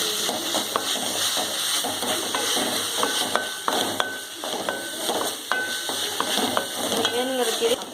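Vallarai greens frying in a pan for chutney, stirred steadily with a spoon: a constant close sizzle with repeated scraping and tapping strokes against the pan, no talking.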